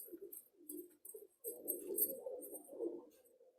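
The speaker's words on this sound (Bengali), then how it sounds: "পায়রা দুটো ঠিক আছে দেখুন খুব সুন্দর পায়রা" A pair of Madrasi pigeons, a male and a female, give soft broken coos in short phrases, close but faint, the final second and a half more sustained and throaty.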